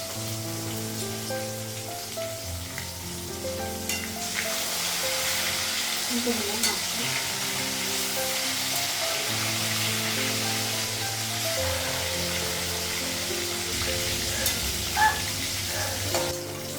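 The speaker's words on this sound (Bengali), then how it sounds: "মাছটা ভাজা হয়ে গেছে" Fish fries in a pan, a continuous loud close sizzle with occasional scraping and stirring, along with a low steady tonal hum in the background and no talking.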